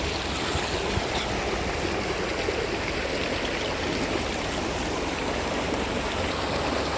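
A mountain stream near a picnic spot outside Quetta splits into two channels that carry water to nearby villages. It rushes and gurgles in a loud, continuous wash with no voices.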